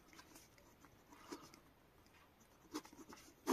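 Faint scratchy strokes of writing on a board, a few brief marks spaced across a quiet background during a math lesson.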